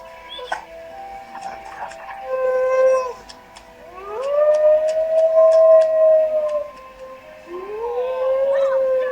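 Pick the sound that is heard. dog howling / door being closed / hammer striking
dog howling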